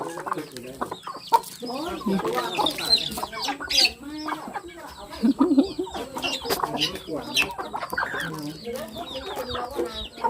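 A hen and her chicks cluck and cheep close by in quick, irregular bursts, while a child and other people talk over them.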